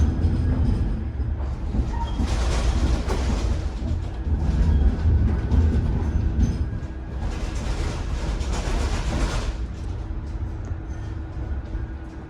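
A tram rolls along its rails with a steady rumble and swelling bursts of wheel noise and rattling, heard from onboard near the Trafford Centre.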